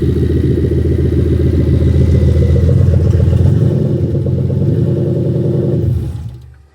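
A Ford Fairmont fitted with a Nissan VK56 V8 idles loudly and steadily up close, a rough, throbbing rumble that holds for several seconds before the engine shuts off and fades to silence.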